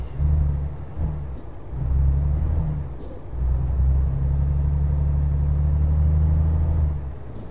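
A heavy truck in Euro Truck Simulator 2 reverses with a deep, steady diesel rumble and a high reversing tone, broken by several sharp hisses of air brakes releasing.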